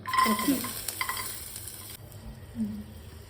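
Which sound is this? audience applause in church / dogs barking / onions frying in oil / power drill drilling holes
onions frying in oil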